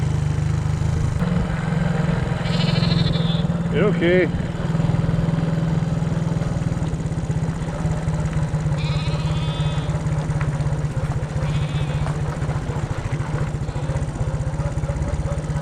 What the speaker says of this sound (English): Found a lot of sheep.